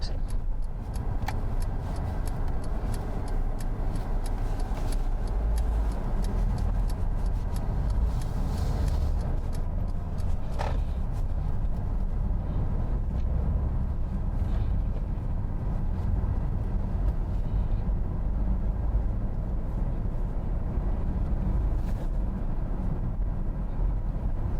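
Car pulling away gently along a 30 mph urban road during a mock driving test, with a steady low engine drone and road rumble throughout, interior perspective, no voices.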